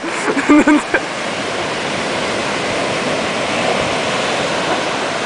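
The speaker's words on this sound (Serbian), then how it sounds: "Jel čujete vi ljudi ove talase?" Broad steady wash of ocean surf at a beach, continuous and fairly loud, with a brief burst of voices and clatter in the first second before the waves carry on alone.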